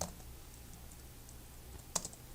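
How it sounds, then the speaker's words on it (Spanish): On a quiet desk, two keys are pressed together on a computer keyboard, Control and Space, as a shortcut in an Excel spreadsheet. The soft clicks come at the start and then near the end of the clip. "presionamos las teclas control y espacio"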